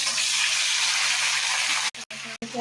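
Whole cumin, cinnamon, dried red chilli and bay leaf sizzle steadily in hot oil, a loud continuous frying hiss that cuts out in a couple of brief gaps near the end.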